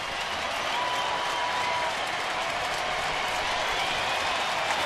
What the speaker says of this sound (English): So the crowd has enjoyed themselves this afternoon on a nice day, and they are all up on their feet.